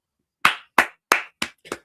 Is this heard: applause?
yes